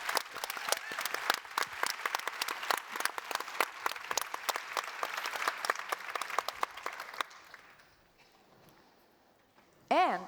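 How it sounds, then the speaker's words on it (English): Applause from a conference audience for a panel on AI, crisp claps at first that thin out and fade to quiet, followed by a brief voice at the end. "A big applaud to the fantastic panel."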